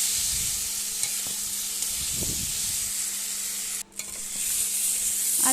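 Fried pointed gourd stirred into a sizzling spice paste in oil: a steady hiss of frying runs under a few soft scraping stirs. One brief gap comes partway through, and no one speaks.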